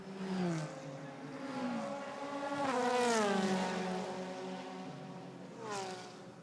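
GT race cars at Suzuka during a 10-hour endurance race, engines rising and falling in pitch as they pass and accelerate, a continuous, moderately distant roar with a second car swelling in near the end.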